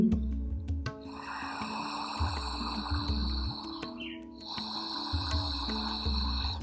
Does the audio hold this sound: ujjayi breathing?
yes